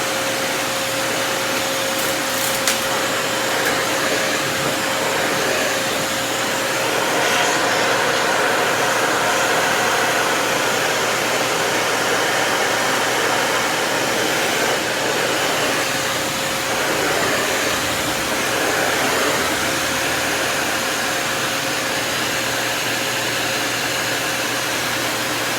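A Cirrus canister vacuum cleaner with a power head that doesn't work runs with a loud, steady whooshing drone and a constant hum, continuous and close, with no voices.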